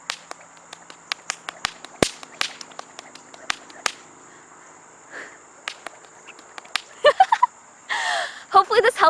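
A 2-foot snake whip snaps rapidly in a quick series of sharp, close cracks, then gives way to louder rustling and handling bursts toward the end.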